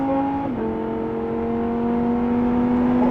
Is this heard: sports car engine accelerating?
yes